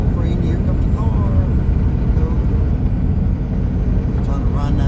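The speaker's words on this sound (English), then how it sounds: "Here comes the car." Car passing on the Elliott Highway in Alaska, a loud, broad low rumble of engine and tire noise close by, holding steady for several seconds.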